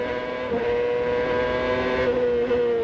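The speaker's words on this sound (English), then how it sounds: "You can see him downshift there, Paul." A CART race car engine at Milwaukee in 1999, Montoya's car, drones loud and steady in a high harmonic whine, shifting pitch slightly as it downshifts, with no talk.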